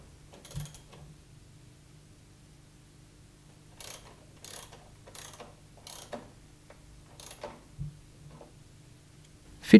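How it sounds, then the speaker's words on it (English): An 8mm socket ratchets on the handle retaining screws of a Honda HRE370 electric lawnmower during assembly, giving a few short bursts of quiet clicking separated by pauses, with faint knocks of handling between. "Use an 8mm socket to tighten the handle retaining screws."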